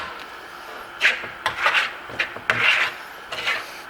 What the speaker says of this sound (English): I always trowel the wax on